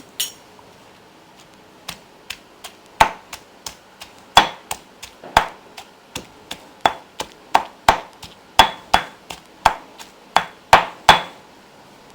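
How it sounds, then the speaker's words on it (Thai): Blanched shrimp being pounded into curry paste in a mortar: about two dozen sharp, close thuds, coming slowly at first, then settling into a steady rhythm with some harder strikes. "เราก็เอากุ้งที่เราลวกไว้เมื่อกี้นี้ ใส่ลงไปโขลกอีก"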